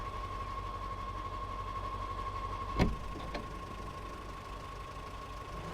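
A truck engine idling steadily in Mudrunner, an off-road driving game set in muddy terrain, with a constant low hum and one short clank partway through.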